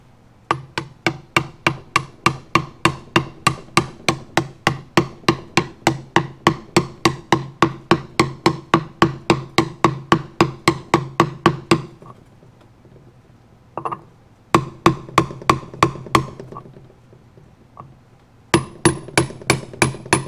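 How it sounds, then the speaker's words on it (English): A hammer drives a seal into a Harley Davidson Sportster wheel in a quick, steady series of sharp metallic strikes, then pauses and finishes with a few more scattered blows, close and loud with no talking. "Grab my hammer."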